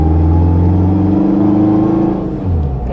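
A turbocharged all-wheel-drive Honda Civic under a light pull, its engine a loud, close, steady droning note with strong harmonics that dips briefly near the end before carrying on, with no voices.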